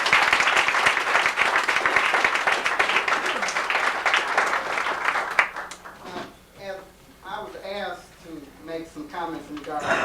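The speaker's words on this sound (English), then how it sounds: "can we give another applause to James Boggs?" An audience applauds for James Boggs at his 71st birthday celebration, a dense burst of clapping for about five seconds that breaks off, followed by a person talking.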